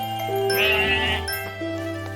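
A sheep bleats in a cute farming video game with horror undertones, one wavering cry over steady game music with light chiming tones, no voices.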